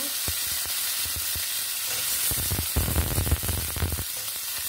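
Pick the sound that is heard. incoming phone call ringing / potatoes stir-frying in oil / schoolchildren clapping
potatoes stir-frying in oil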